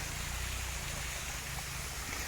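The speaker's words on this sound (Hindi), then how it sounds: "और देखिए ये रहा पूरा का पूरा जो है वो झरना है" A waterfall at Shirdi pours with a broad, continuous rushing roar, dense and steady throughout, filling the whole short stretch without any voices.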